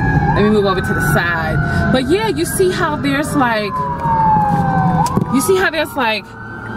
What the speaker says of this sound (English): I hear it's a fire truck.